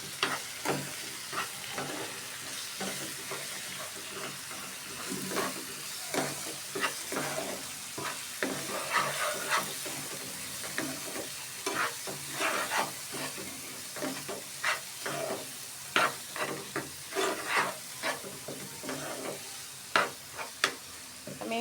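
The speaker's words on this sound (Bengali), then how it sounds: "আমি ভালোভাবে নাড়তে থাকি" Chicken curry with chili and turmeric powder and salt is stirred in a hot pan, giving a constant frying sizzle with frequent sharp scraping strokes of a spoon, close up and steady throughout.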